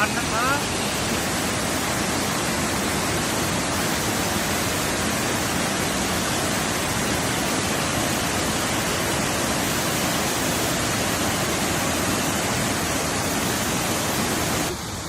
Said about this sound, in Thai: เสียงน้ำเสียงนกเสียงธรรมชาตินกร้อง